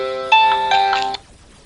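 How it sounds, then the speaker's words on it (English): An alarm clock going off with a short bright electronic chime of a few tones, clear and close, lasting about a second before stopping. "that's my alarm clock signaling that I have to go to work soon"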